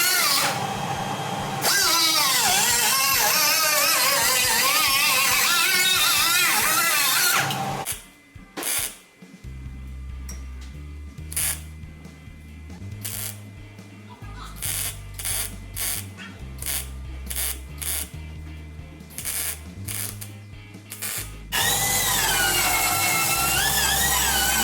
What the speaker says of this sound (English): I can now cut it to size and weld it in